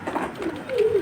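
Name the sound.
uncommon home-bred Gorra pigeon cooing, held in hand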